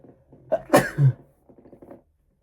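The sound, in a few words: sneeze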